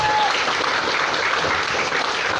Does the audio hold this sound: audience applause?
yes